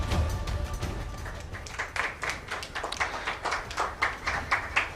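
Audience applause at an MMA weigh-in ceremony, scattered claps building into a steady, moderately loud patter of many hands in a hall, with crowd noise underneath.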